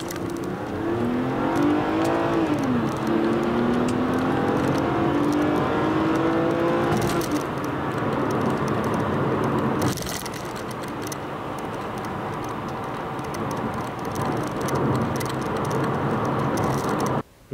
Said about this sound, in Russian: Давайте посмотрим разгон.